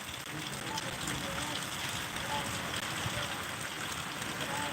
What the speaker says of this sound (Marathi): वीस ते पंचवीस मिनिटापासून पाऊस चालू आहे